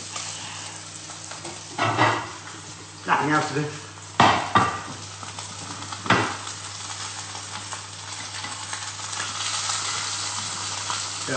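Mackerel skin frying in a hot pan, a steady loud sizzle and bubbling hiss running throughout, broken by a few clattering stirs and pan knocks, with brief talk over it.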